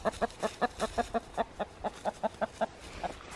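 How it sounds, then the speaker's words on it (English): A white chicken clucks close by in a backyard compost area under an apple tree, giving a quick, even run of about fifteen sharp clucks over roughly three seconds with faint background noise. "There goes the crazy white chicken. She wants in on it."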